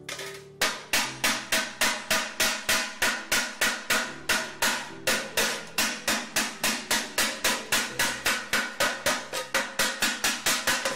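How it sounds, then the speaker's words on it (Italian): A mallet beats a copper weld flat in a crafts workshop with rapid, evenly spaced loud blows, about three per second, each ringing briefly, alone with no speech. "Adesso qua spianiamo la saldatura con la mazzola, che allora diventa più bella liscia."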